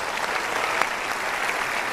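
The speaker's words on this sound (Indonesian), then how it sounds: "Kita berikan tepuk tangan dulu untuk dia." A studio audience at a televised motivational talk show applauds with dense, steady clapping that stays even and fairly close for the full short burst.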